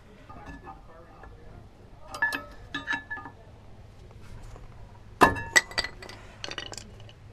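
Metal brake pads pulled from the caliper of a 2014–2018 Chevrolet Silverado, giving scattered metallic clinks and ticks, with a sharp cluster of clanks near the end over a quiet background.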